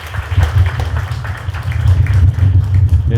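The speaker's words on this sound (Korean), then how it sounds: "다시 한번 큰 박수 부탁드리겠습니다" An audience at a book launch concert applauds warmly, with dense, steady clapping that swells slightly toward the end, filling the hall at close range.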